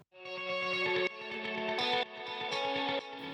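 Electronic music with sidechained, tempo-synced filtered chords and a light delay, the sustained tones pulsing in repeated swells roughly every second, heard alone.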